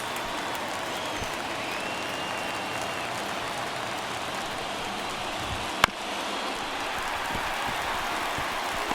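A baseball stadium crowd roars steadily in the ninth inning of a one-run Padres at Mets game, a dense, loud, continuous wash of cheering with one sharp crack partway through.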